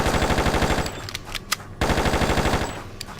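Rapid automatic gunfire in the Just Cause video game, loud and close, a fast even stream of shots that breaks off briefly for a few single bursts before resuming, with no talk over it.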